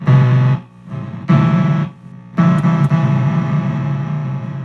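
Electric guitar through an MXR Blue Box octave fuzz pedal, a buzzy, chiptune-like fuzz tone played in three loud bursts separated by brief gaps, the last note sustaining with quick decay.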